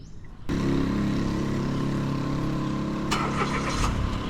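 A car engine cranks briefly and then catches, settling into a steady idle rumble that stays loud and close, with a light rattle near the end and no talking.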